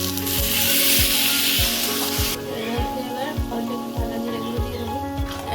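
Water poured into a hot pan of hilsa fish head and papaya curry, a loud bright sizzle that abruptly drops to a softer bubbling simmer, with rhythmic low knocks of stirring.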